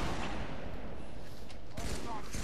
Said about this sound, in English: There's one guy with a plasma turret that's just shooting at me.